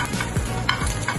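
An egg fries in a pan at close range, a steady crackling sizzle with soft stirring or scraping touches throughout, no voices.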